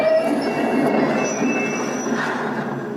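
A train arrives in the stealth video game Hitman Absolution with a sustained rumble of rail cars and a high squeal from its wheels. The noise stays steady and fairly loud for the whole clip, and nobody talks.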